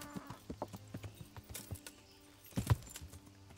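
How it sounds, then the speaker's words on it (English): Horse hooves clip-clop in a steady walking rhythm while riding in Kingdom Come: Deliverance, close and clear, with a heavier thud near the end. "So I just ride my horse"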